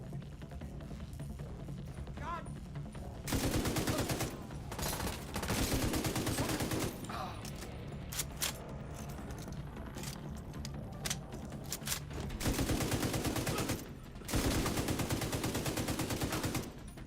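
Gunfire in the video game The Division 2: sustained bursts of automatic weapon fire and rapid single shots, loud and dense, alternating with short lulls over roughly seventeen seconds, with faint talk underneath.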